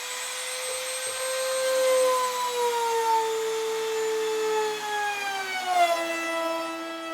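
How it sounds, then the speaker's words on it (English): A trim router cuts half-inch slots through a router table top, guided by a strip fence: a steady high-pitched motor whine that dips slightly in pitch as the bit bites, close and continuous, with no talk. "a strip that I'm going to use as a fence for the trim router that I'm going to use to cut the slots"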